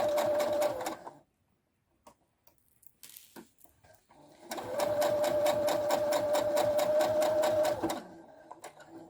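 Sewing machine stitching a hat seam along the seam guide: a fast, even mechanical whirring in two bursts, a short one at the start and a longer run after a quiet pause, close and clear.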